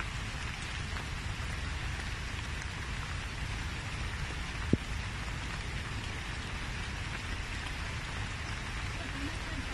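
Steady rain falls continuously outdoors in Singapore, a dense even hiss throughout with one brief sharp knock partway through and no talk.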